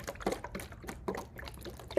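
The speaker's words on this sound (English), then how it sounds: "I put a little water in this jar," Small splashes and gurgles of water sloshing in a jar, uneven bursts rising and falling, close and fairly quiet.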